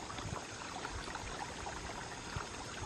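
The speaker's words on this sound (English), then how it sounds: "Here is another waterfall." Small waterfall on a nature trail in Nebraska, a faint, steady rush of falling water heard from a distance with no talking.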